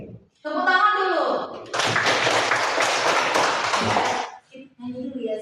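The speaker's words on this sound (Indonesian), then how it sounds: "Tepuk tangan dulu" Schoolchildren clap their hands together in a classroom, a busy burst of mixed claps lasting a few seconds, with a teacher's voice speaking before and after it.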